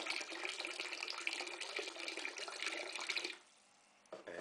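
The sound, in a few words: filling a barrel with RO water from a tap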